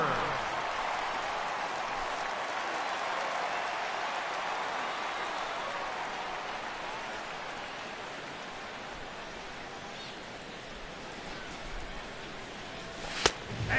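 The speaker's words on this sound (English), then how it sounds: "he'll get himself a nice little ovation for the work he's turned in on the mound so far" A baseball crowd at a Reds vs. Cubs game gives the pitcher a sustained ovation, a dense, steady wash of applause and cheering that holds for about fourteen seconds before easing slightly near the end.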